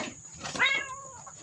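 A cat meows clearly at close range, one drawn-out cry with a falling pitch over faint background noise, while a person cleans fish.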